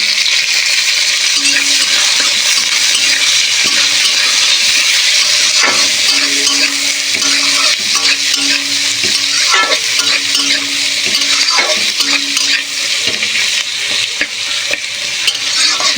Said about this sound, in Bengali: আমি কুচিয়ে রাখা পেঁয়াজ দিয়ে দেবো।